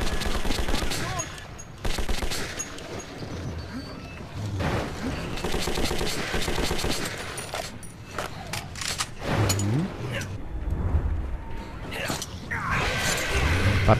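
Bursts of rapid gunfire in the video game Metro 2033 crack repeatedly amid chaotic action noise, with voices shouting in German between the volleys.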